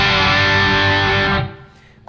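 An electric guitar plays through a KOR Eden Drive overdrive pedal set to vintage mode. One loud, distorted chord sustains evenly before dropping away, leaving a brief near-silence and a small noise at the end.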